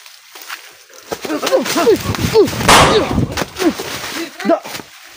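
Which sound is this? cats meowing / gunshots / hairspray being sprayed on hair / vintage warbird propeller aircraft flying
gunshots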